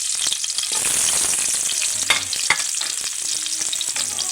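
Onions frying in a hot pan while being stirred, a loud continuous sizzle with occasional scraping knocks of the utensil, no talking.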